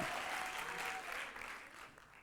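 Audience applause at a gala, a steady crowd clapping from the start that gradually thins and fades over about two seconds, with no voices over it.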